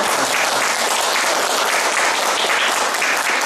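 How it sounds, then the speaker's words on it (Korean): An audience at a school lecture bursts into steady, dense applause, loud and continuous clapping from many hands filling the room without pause. "여러분들 큰 박수 부탁드리겠습니다."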